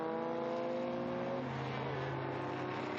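A historic Porsche 904 race car at the Estoril Classics circuit sounds a loud engine note that climbs in pitch, drops at a gear change, then rises again. The sound is close and continuous with no voices.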